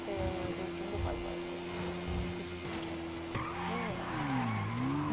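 Heist getaway car driving in the GTA video game, its steady engine drone holding a constant pitch, then rising and dipping with revs and tire squeal near the end, continuous and fairly loud.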